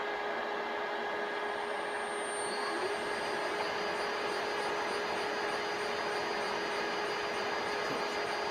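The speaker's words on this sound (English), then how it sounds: "So I've got the inverter started, so I'm just going to hit the throttle here. It will go up to speed" An electric motor driven by an inverter runs with a continuous whine and steady hum, holding even and moderately loud throughout, with faint pulsing tones in the background.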